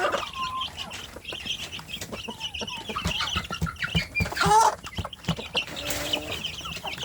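Free-range village chickens cluck and squawk at close range on a morning when many hens are laying, giving a busy, irregular chorus of short calls with occasional louder cackles.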